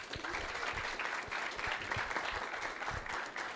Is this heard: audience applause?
yes